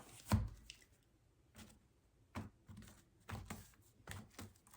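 Tarot cards are shuffled in quiet, crisp bursts of riffling and tapping, a handful of separate shuffles spaced across the moment, close and soft, with no talking.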